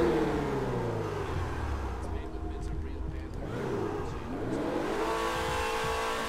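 In GTA V Online, a Grotti Cheetah Classic with a maxed-out engine revs loudly and steadily, its pitch sweeping up and down, while someone talks excitedly over it.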